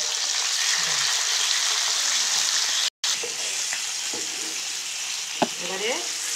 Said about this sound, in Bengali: মাছগুলো কেমন ভাজা হয়ে যাচ্ছে,